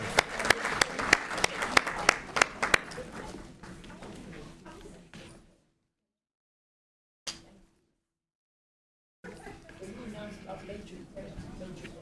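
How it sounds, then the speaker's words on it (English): An audience at a school district Black History recognition celebration gives a round of applause for school partners. Lively clapping for about three seconds thins out and cuts to silence, then quiet room sound returns. "Let's give a big round of applause for all the partners for all of our schools in District 5"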